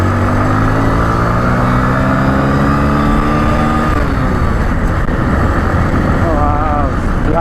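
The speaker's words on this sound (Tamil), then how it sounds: "ஸ்ப்ளெண்டரில் இவ்வளோ எக்ஸாஸ்ட் சவுண்டு வருது," A Hero Splendor motorcycle's exhaust drones loud and close while riding, a steady engine rumble with shifting pitch and rushing wind, and a voice talks over it.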